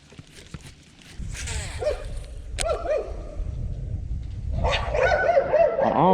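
A dog barks and yips near a dock on a clear lake, short sharp barks scattered through the clip and growing busier toward the end, mixed with outdoor rustle and footsteps.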